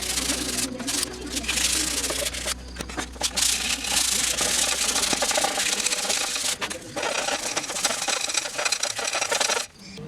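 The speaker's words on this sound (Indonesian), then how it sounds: "Grill speaker telah diamplas dan dibersihkan serta siap untuk dicat ulang." A slightly corroded metal speaker grill from a Polytron VCD 7205 system is sanded by hand, a close, continuous rasping rub in uneven strokes with short pauses, no talk.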